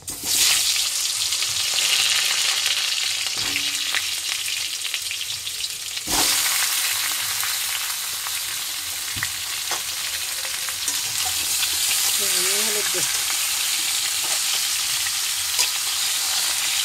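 Mango pieces for a sweet-sour-spicy pickle sizzle loudly in hot mustard oil with five-spice tempering in a wok, with a sharp clatter partway through, scraping stirs and a continuous crackling fry.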